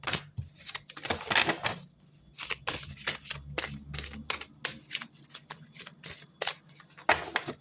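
Tarot cards are handled and one is drawn from the deck, producing quiet, close papery flicks, taps and rustles in an irregular series.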